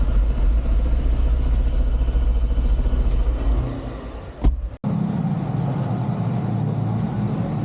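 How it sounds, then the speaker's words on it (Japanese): Motorcycle and car engines echo through an underground bike parking garage beneath UDX in Akihabara, a loud continuous rumble that drops away, breaks with a sharp clunk, then settles back into a steady hum. "左側が UDX のバイクの地下駐車場になります"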